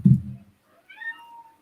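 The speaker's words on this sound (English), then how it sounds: "A little cute meow." A cat makes a short low sound, then a clear, fairly close meow follows after a brief silence.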